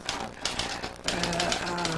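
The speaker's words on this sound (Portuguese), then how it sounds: "essa maquininha de escrever velha de guerra. E então datilografo" An old, well-worn mechanical typewriter clacks in a fast irregular run of keystrokes, close and fairly loud, with a voice speaking faintly beneath.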